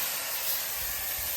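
Boiled pork drops into a hot, dry, oil-free wok, giving a steady loud hiss and sizzle of steam close by with no talking.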